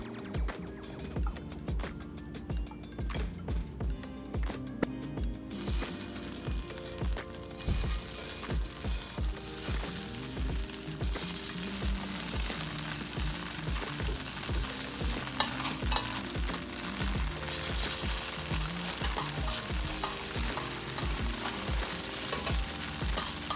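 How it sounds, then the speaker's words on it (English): Tofu fries in avocado oil in a pan, browning on all sides with a steady, crackling sizzle and bursts of stirring and scraping. The sizzle grows louder and denser partway through and runs on without any talking. "So I'm gonna get this tofu brown on all sides."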